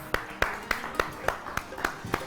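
A studio audience on an Eid special talk show applauds to welcome a guest, with a handful of distinct, evenly spaced claps that sound sparse and fairly close rather than a full roar.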